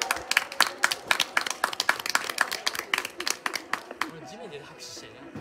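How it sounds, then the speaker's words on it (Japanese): Audience clapping at a regional racing series awards ceremony, a dense burst of close, rapid handclaps that carries on steadily and then thins out and fades near the end. "拍手お願いします。"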